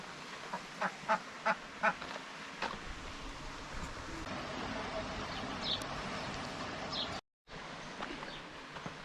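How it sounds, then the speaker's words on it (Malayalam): Ducks on a farm quack in a short run of four loud calls near the start, then softer scattered quacks over a busy outdoor background with faint voices, broken by a brief dropout near the end. "താറാവ്"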